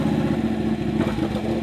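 Modified Ducati Panigale 899 R sport bike with aftermarket exhaust and Öhlins suspension, its engine running steadily close by with a deep, throbbing rumble and a slight swell in revs toward the end, no talking.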